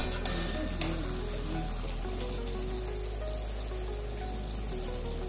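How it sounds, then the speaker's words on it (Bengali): Kadhai paneer with kasuri methi stirred and sizzling in a kadai over a high flame, a steady close frying hiss with faint scraping of the spoon throughout, no talking. "এরপর 1 মিনিটের মতো হাই ফ্লেমে নাড়াচাড়া করে নিলাম।"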